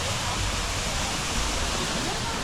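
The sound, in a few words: artificial waterfall at Fansipan mountain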